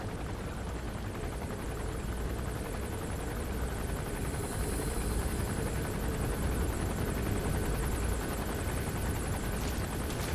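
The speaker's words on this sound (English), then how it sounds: "I'm gonna wait till the helicopter does not turn around." A helicopter in Metal Gear Solid V, with a steady, loud rotor drone and engine whine holding throughout with no letup.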